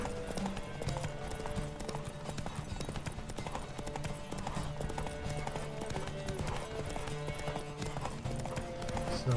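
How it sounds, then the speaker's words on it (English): A horse gallops at full tilt during a race in the video game The Witcher 3, its rapid clip-clop hoofbeats steady and close throughout over continuous game music, with a brief whinny. "Don't spare the horse!"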